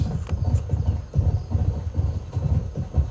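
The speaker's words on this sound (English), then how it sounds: "I love how I hitched my horse and it can still get away and run" A horse in Red Dead Redemption galloping off, rhythmic clip-clop hoofbeats in quick repeating bursts, close and prominent, with no one speaking over it.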